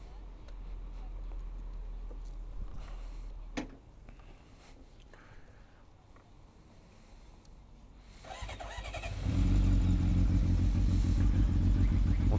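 A Kawasaki motorcycle engine cranks and catches, swelling into a loud, steady idle near the microphone after a stretch of quieter low rumble outdoors.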